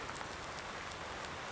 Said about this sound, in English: day 5, late spring, and it is raining